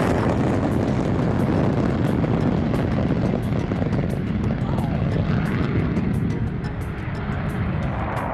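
American F-16 fighter jet flying during an air show demonstration at Marrakech: a loud, constant roar with wind buffeting on the microphone, continuing without a break.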